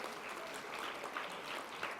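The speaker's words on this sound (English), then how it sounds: "Massive round of applause" Steady applause from a crowd at a charity gala dinner, a dense continuous clapping that holds evenly for a couple of seconds.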